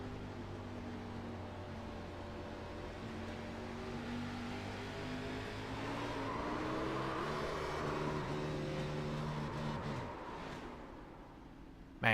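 Engine heard onboard Trevor Earhart's race car at Phoenix Raceway, a loud, steady droning whine with layered harmonics that swells as it climbs, then drops sharply near the end before a brief final jolt.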